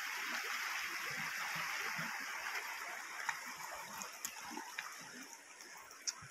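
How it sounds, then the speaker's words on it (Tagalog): Steady rushing water of a clear stream in Rizal, Palawan fills the scene, a strong continuous flow like a fast stream, with a few small splashes standing out near the end. "Lakas ng tubig."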